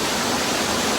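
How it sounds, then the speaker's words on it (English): White Lady Waterfall on Dartmoor, Devon, a dense, steady rush of falling water, loud, close and unbroken, with no voices. "Made it to White Lady Waterfall"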